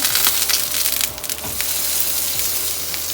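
Paneer tikka sizzles steadily on a hot tawa, with a continuous crackling hiss and a few sharper pops and scrapes, close and fairly loud, with no talking.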